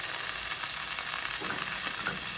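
Sliced mushrooms and onions sizzle in a pan of oil and butter, a soft continuous crackle with a few louder spits and stirring scrapes near the end, close up and without talk.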